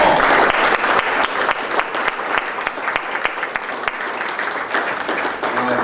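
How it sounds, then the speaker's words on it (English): A crowd at a fundraiser event applauds warmly, many hands clapping in a dense wash with a few sharper individual claps standing out near the front, holding fairly steady for several seconds. "Let's have a round of applause for Paul."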